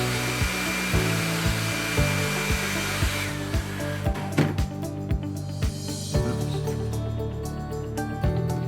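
A heat gun blows steadily close by while heating the edge of a vinyl laptop skin to shrink and curl it, a continuous loud whooshing hiss with faint taps and handling knocks over it.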